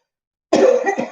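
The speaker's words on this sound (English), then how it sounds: "a cough is coming on" A single harsh cough bursts out after half a second of silence, loud and close, with a brief second rasp trailing off.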